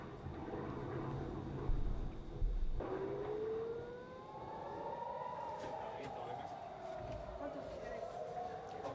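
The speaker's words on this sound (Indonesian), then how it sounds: "Warga Israel berbondong-bondong bersembunyi di bunker mereka saat sirene serangan udara berbunyi di Tel Aviv" Air raid siren wailing over Tel Aviv during an Iranian missile and drone attack, a rising and falling tone that swells after a loud thump, heard from a distance amid crowd noise and street bustle.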